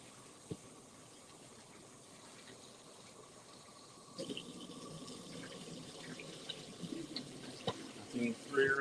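Rice being rinsed under a running tap in a kitchen sink, a faint hiss of water that grows louder and splashier partway through, with brief knocks and swishes of the pot.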